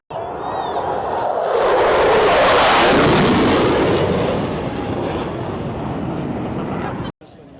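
An Air Force plane at the Oshkosh airshow passes with a loud, broad jet roar that swells to a peak, then holds steady before cutting off abruptly near the end.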